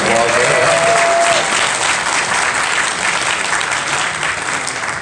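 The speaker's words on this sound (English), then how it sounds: "A little round of applause there." A crowd at a furry convention opening ceremony claps steadily for several seconds, dense and lively, with a faint whoop near the start, fading slightly toward the end.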